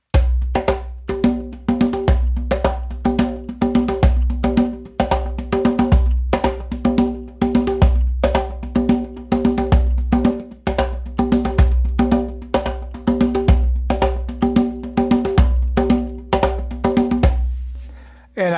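Hand drum played in a 7/8 rhythm, mixing deep bass tones, ringing open tones and sharp slaps in a steady repeating pattern, close and loud throughout with no talking.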